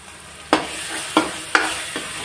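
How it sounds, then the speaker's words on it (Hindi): Spices and kasuri methi frying in hot oil for chhole make a continuous soft sizzle, broken by three distinct scraping stirs in the pan and a fainter fourth, heard up close with no voices. "सारे मसाले डाल के इसमें भूजेंगे।"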